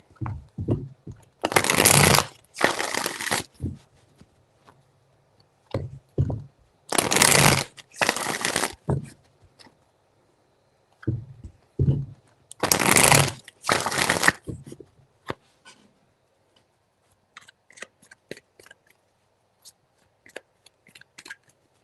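Tarot cards being shuffled by hand, three distinct bursts of riffling and sliding about two seconds each, with short gaps between and quiet handling at the end.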